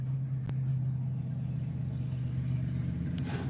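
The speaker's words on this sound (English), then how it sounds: "Whose truck is that? Oh my god, it was a car." A car passes outside, heard as a steady low engine rumble that rises and fades slightly over a few seconds, fairly faint and muffled indoors with no talk.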